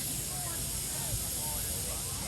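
Spray hissing at an outdoor Canada Day event, a steady broadband hiss lasting the whole moment, fairly loud and close, with crowd chatter faint underneath.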